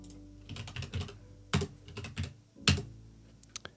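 Typing on a computer keyboard, close clicky keystrokes in short irregular bursts with a few louder key strikes and brief pauses, no talking.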